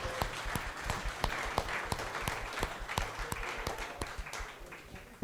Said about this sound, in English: Give him a big round of applause right there.